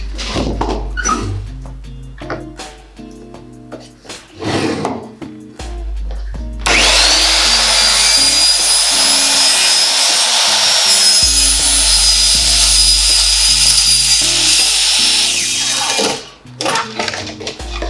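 A power saw cuts through hard, brittle vinyl siding in one loud continuous whining pass lasting about ten seconds, preceded by knocks and a dog barking and whimpering nearby.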